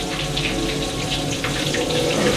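Chicken tenders fry in hot oil with a dense, steady crackling sizzle, loud and close throughout.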